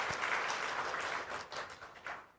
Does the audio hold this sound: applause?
yes